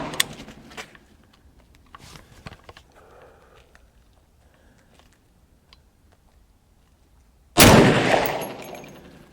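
A single loud .350 Legend rifle shot fired over a chronograph cracks out near the end, a sharp broadband blast with a decaying tail, after quiet stretches of faint handling noise.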